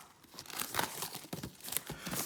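Sealed Pokémon Elite Trainer Box plastic wrapping is torn open with teeth: several close crinkling rips and crunches in quick succession, with no talking.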